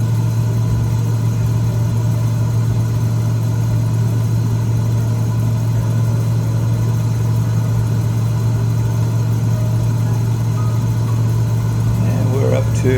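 A 300-horsepower Cessna 206 engine in a flight simulator drones in steady cruise, a loud, low, even hum holding without change throughout, with a voice talking over it near the end.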